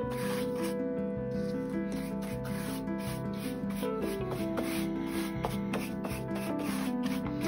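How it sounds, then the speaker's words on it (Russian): Paper tubes for basket weaving, coated in Parit varnish, are stirred and turned with a brush, giving a steady close rubbing and scraping under background music, with occasional soft taps. "я их ворошу. То есть ворошу прям при помощи кисточки, чтобы руки не пачкать"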